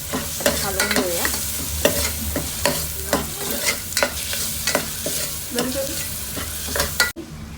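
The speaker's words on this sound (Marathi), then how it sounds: "मग आता ह्याला थोडंसं हलवून घेऊया" A spoon stirs a sizzling tadka of garam masala and cumin powder in a pan for tadka dal khichdi, with repeated scraping strokes and clinks over a continuous frying sizzle, ending in a sharp knock.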